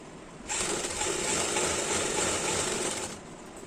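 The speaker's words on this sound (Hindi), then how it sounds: "तो इसको हम इस तरह से सिलाई लगाते हैं।" Sewing machine stitching an umbrella frock whirs in one steady, fast run, close and fairly quiet, starting abruptly and stopping after about two and a half seconds, with no voices.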